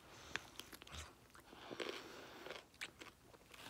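Someone bites into a hot pickle and crunches on it, producing crisp snaps followed by wet chewing, very close and quiet, with no talking.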